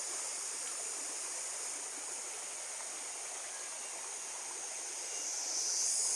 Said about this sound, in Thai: ฟังเสียงน้ำครับ รีแลกซ์ดีครับเพื่อนทุกคน